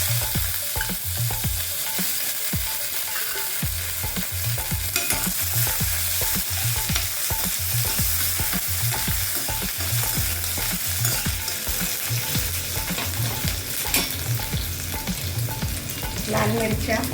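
Onion, mustard seeds, cumin and curry leaves frying in hot oil, a loud continuous crackling sizzle with steady rhythmic stirring throughout.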